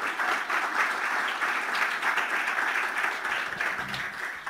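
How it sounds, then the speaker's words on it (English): Steady applause from a crowd for the contestants at the UT Austin 2019 Three Minute Thesis final round, even and sustained throughout, with no voices standing out. "let's give one more round of applause to all of our contestants"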